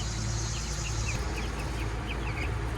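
Thirteen-day-old chicks peep in short, high, repeated notes scattered over a steady low hum, with soft clucking mixed in.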